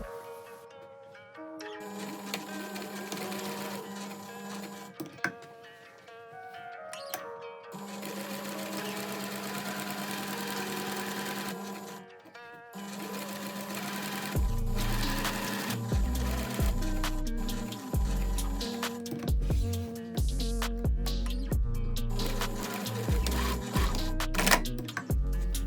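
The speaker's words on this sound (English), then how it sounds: "Use the marking as a guide for your stitches and sew along this line." A sewing machine runs in sustained bursts while stitching a French seam pocket, with brief pauses between runs and a steadier, heavier mechanical hum in the second half; no voices.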